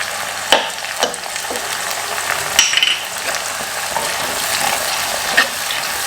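Spices with pepper powder stirred in hot oil in a pan for garlic pickle, steady frying sizzle with a few spoon knocks against the pan.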